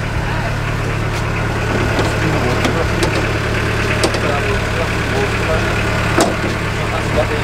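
A vehicle engine runs on an overland trail after its starter motor is bashed, holding a steady, close, low idle throughout. People talk over the engine.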